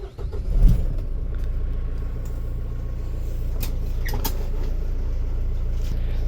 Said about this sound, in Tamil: இந்த வண்டியை ஓட்டி காட்டுற ஒரு ரவுண்டு சரிங்களா